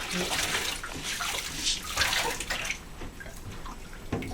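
Water sloshes and splashes steadily in a bathtub as a foot is rinsed during bathing care, a continuous close wash with a few sharper splashes near the end.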